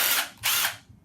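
A Milwaukee cordless drill's clutch slips under resistance, producing two close, loud bursts of harsh ratcheting clatter in quick succession.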